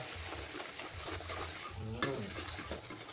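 Tamarind-sugar sauce being stirred in a pan until the sugar dissolves, a soft, faint scraping and gentle bubbling with one sharper utensil clink midway.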